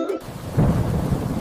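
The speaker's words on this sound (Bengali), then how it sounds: "একদিন এলো ঝড় বৃষ্টি ঝমঝম" A cartoon-style thunderstorm effect delivers a brief, loud rumble of thunder followed by a dense wash of rain, lasting only a moment.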